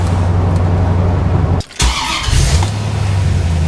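An LT1-powered C4 Corvette's engine cranks briefly and catches, then settles into a steady low idle rumble, heard up close and alone with no talk.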